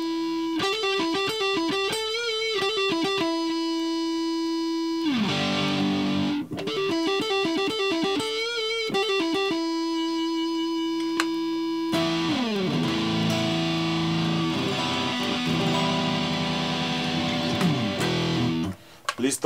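An Ibanez GIO electric guitar, just adjusted, plays through heavy distortion: loud, sustained chords and riffs with repeated palm-muted patterns and slides, ringing continuously for nearly twenty seconds with no talking.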